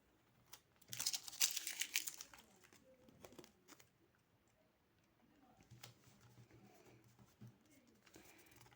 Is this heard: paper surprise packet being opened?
yes